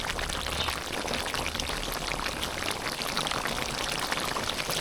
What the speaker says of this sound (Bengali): পুরো তরকারিতে পানি দিয়ে দেবো।